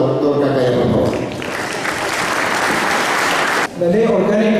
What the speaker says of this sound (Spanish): Recibamos un fuerte aplauso al doctor Kakaya, por favor.